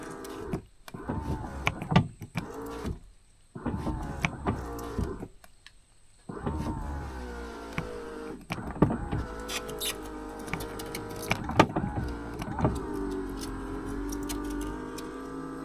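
Power windows on a Porsche 924 Turbo that sat for 24 years whine and groan in slow, strained bursts with short pauses between them, moaning almost like a cow, close and fairly quiet.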